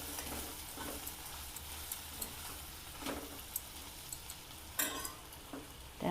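Raw banana bhaji is stirred with crushed peanuts in a pan, giving quiet scraping and occasional sharp taps of a spoon against the pan, faint and close with no talking.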